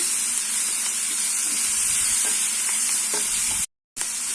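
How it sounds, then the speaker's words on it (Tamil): Tomatoes sauté in a hot pan on medium flame for egg kothu parotta, giving a steady close sizzle and hiss with occasional stirring scrapes, briefly cutting out near the end. "இது கொஞ்சம் நல்லா வதங்கட்டும்"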